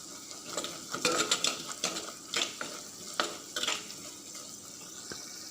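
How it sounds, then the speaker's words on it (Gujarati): Potatoes and peas fry softly in a pan with turmeric as a spoon stirs them, giving quiet sizzling under a scatter of scraping, clattering strokes. "સરસ રીતે હલાવી અને થોડું બ્રાઉન થાય ત્યાં સુધી ચડવા દઈશું"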